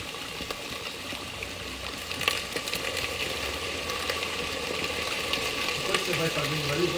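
Chopped rosemary frying and being stirred in a pan while cooking oxtail in red wine, a steady soft sizzle with light scraping, under a speaking voice.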